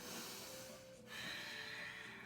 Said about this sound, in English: I can hear my breathing